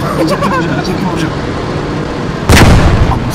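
A tank gun firing in the WWII shooter Post Scriptum, one loud, heavy boom that cuts in suddenly and rolls on over rumbling engine noise, with people talking beforehand.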